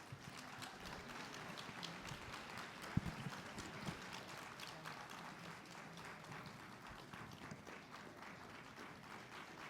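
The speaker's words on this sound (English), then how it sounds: "Keep clapping." Applause from a crowd at a White House Initiative event honoring HBCUs, a steady, fairly faint wash of clapping that keeps going throughout with no pause.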